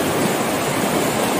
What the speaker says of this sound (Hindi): कितना तेज पानी है